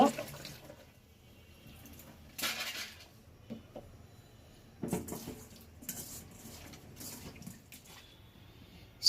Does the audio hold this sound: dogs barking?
no